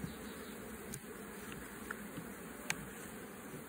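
Honeybees hum in a dense, continuous drone inside an open hive honey super, steady and close, with a few faint clicks and knocks of the frames.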